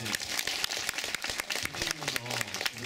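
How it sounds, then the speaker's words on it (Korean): Audience applause at a live newspaper talk concert, dense broadband clapping spread across the whole stretch with scattered louder claps, steady and fairly close. "이거 박수 주셔야 됩니다"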